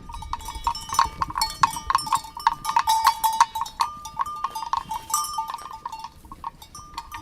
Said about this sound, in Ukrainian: У кожної корови свій дзвіночок, і ці всі дзвіночки якусь створюють таку місцеву музику.